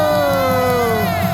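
A rally crowd cheers in a loud, sustained roar of voices, with a drawn-out whoop sliding down in pitch through the middle.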